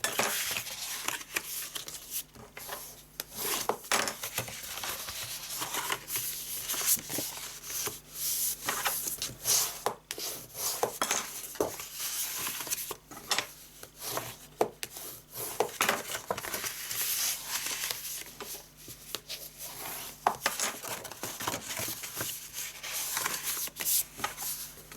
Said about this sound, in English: So now we need to fold and burnish on our score lines.